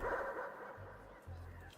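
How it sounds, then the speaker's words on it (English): A dog bark from the video game Arc Line, a single loud burst that echoes and then fades into a low, quieter hum. "a loud bark echoes and fades away"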